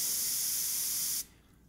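An airbrush sprays paint through a stencil onto a zombie-themed background with a steady, close, bright hiss that cuts off abruptly after about a second.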